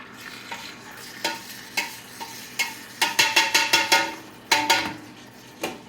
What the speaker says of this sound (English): Make sure you stir it all up.